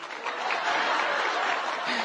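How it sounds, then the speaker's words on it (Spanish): A convention audience applauds first-time attendees: a full round of dense clapping swells in after a brief quieter moment and holds steady, with faint chuckles and voices mixed in. "Un aplauso para ustedes, para los nuevos que vienen por primera vez a una convención."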